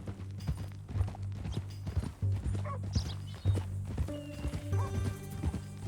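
Horse hooves clip-clopping at a steady walking rhythm in Red Dead Redemption 2, close and distinct over a low humming game backdrop, with a brief whinny-like sound in the middle.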